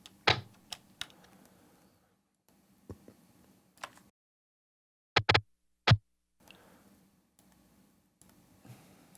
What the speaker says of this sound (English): if I go into the first chord of the breakdown, which is a palm mute, you can actually just cut that out and use like the tiniest slice